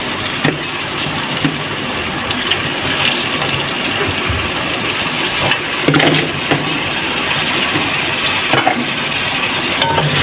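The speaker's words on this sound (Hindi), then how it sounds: "चिकन को हम भूनेंगे अदरक लहसुन के साथ।" Chicken fries with ginger and garlic in a pan over high heat, making a loud, continuous dense sizzle with occasional stirring scrapes and bumps throughout.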